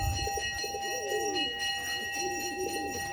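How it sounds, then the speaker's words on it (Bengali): Close, steady cooing of a flying pigeon, repeated rolling coos over a background with a constant high-pitched tonal hum. "আচ্ছা দেখো পায়রাটা দেখো"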